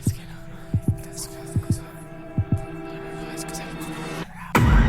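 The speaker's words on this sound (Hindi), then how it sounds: "सिमरन की धड़कन धीरे धीरे बढ़ने लगती है।" Heartbeat sound effect for an animated haunted-theatre story: paired low thumps repeat steadily and gradually draw closer together, loud and alone, ending in a sudden burst of noise.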